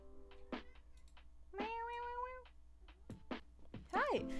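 A cat meows several times close by, including a drawn-out wavering meow and a rising-falling cry near the end, with soft speech and light clicking in a quiet room.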